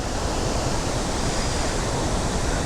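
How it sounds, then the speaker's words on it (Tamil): Forest waterfall beside the Valparai to Athirappilly road, a steady, loud, broadband rushing roar of falling water that fills the whole clip without pause. "ஐயோ என்னடா ஃபால்ஸ் இப்படி இருக்கு."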